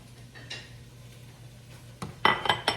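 Bowls and dishes clink and knock together while being handled in a home kitchen during taco lasagna prep, with a few quiet taps early on and a cluster of three louder, close clinks near the end.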